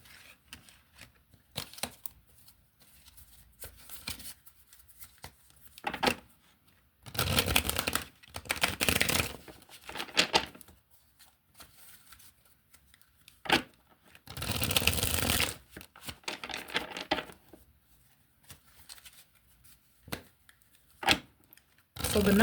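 Tarot or oracle cards shuffled and drawn from a deck, brisk riffling and flicking bursts coming in several clusters with quiet pauses between, close and fairly soft.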